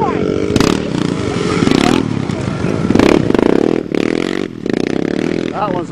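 A quad ATV climbs a hill outdoors on a cold March day, its engine loud and revving hard with rises and dips, clattering and scraping over the ground, while people talk nearby.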